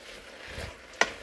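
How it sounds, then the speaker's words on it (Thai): Pork is stir-fried in a pan, heard as a short burst of close frying hiss with a soft scrape, then a sharp clink of utensil on the pan near the end. "ล้วนหมูใส่กระทะนะคะ"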